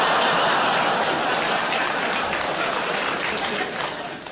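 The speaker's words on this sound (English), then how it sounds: "the fact a child has applauded that very loudly" Comedy club audience at a Jimmy Carr stand-up show breaking into loud, sustained applause mixed with laughter and chuckles, the clapping dense and steady before tapering off at the end.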